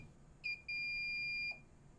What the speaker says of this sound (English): accompanied by rapid beeping.